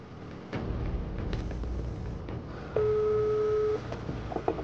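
An unanswered phone call rings out, a steady ringback tone sounding once for about a second over room noise and background chatter, with no one picking up.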